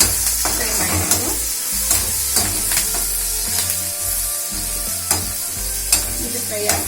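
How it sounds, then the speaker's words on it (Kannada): Green chilli paste and chopped ginger fry in a pan for a ginger gojju, a steady close sizzle broken by repeated scraping stirs of a spoon against the pan, with no voices. "ಹಸಿಮೆಣಸಿನಕಾಯಿ ಚೂರು ಇದನ್ನು ಸ್ವಲ್ಪ ಚೆನ್ನಾಗಿ ಹಾಕಿ ಫ್ರೈ ಮಾಡಬೇಕು."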